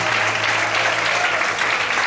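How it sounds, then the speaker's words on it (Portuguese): A short burst of steady, dense clapping from a church congregation, loud and continuous throughout. "Quem também crê nisso, aplauda o Senhor."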